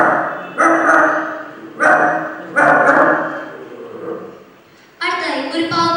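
A girl in a mimicry contest at the Kerala State School Kalolsavam arts festival imitates a big house's dog with her voice: four loud, deep, separate bark bursts spaced apart, close to the microphone.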